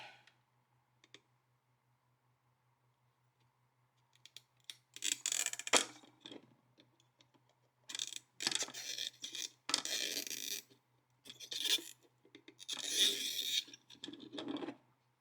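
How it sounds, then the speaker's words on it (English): Pliers twisting and prying parts out of a Game Boy Advance shell, quiet close-up plastic clicks and scraping crackles in irregular bursts, with silent pauses between them. "I just used kind of like a twisting motion with the pliers, and that's how I got things out without too much difficulty"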